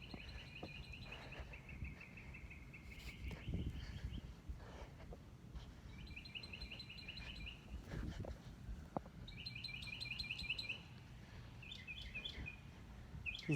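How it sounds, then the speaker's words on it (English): Birds in a neighborhood tree chirp in repeated short bursts of high, rapid trills, spaced every few seconds over a faint outdoor background hum. "These birds are very loud."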